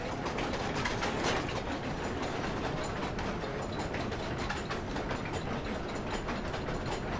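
Noisy gear-driven machine running in the horror game Amnesia: The Dark Descent, a continuous loud grinding, clattering ratchet of meshing gears with a steady mechanical rhythm, alone without talk.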